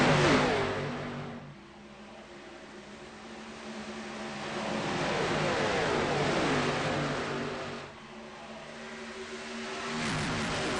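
Race cars in a TWB 180 season finale accelerating off the start, engines revving loud and rising in waves, several cars passing near in succession with harmonic whine swelling and fading.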